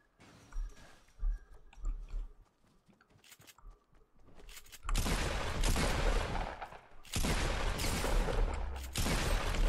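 Fortnite Battle Royale gunfire: scattered faint clicks and thumps at first, then loud dense rapid shooting in long sustained bursts with brief breaks.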